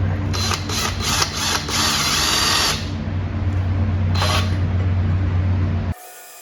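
A power drill with a large bit bores into metal on a two-stroke V8 engine intake fitted with an LS throttle body, whining loudly in several short bursts and then a longer continuous run before cutting off abruptly.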